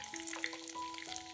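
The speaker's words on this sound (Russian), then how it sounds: "Обжариваем рулеты с одной стороны, а затем переворачиваем на другую сторону." Breaded fish rolls stuffed with cheese fry in oil in a hot pan, giving a steady close sizzle with crackling pops and a faint tonal hum beneath.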